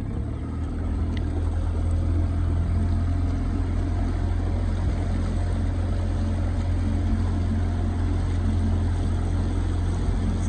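Steady droning boat motor from a video game, running continuously at an even pitch with broadband water-like rush and no talk over it.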